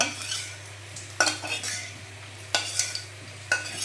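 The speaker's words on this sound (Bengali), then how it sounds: "ব্যাস তেলটা গরম হলে তখন আস্তে আস্তে মাংসগুলো ছেড়ে দিব ফ্রাই করার জন্য" Chicken frying in hot oil, a low steady sizzle beneath sharp clinks of a utensil against the pan at irregular intervals, close and fairly quiet with no voices.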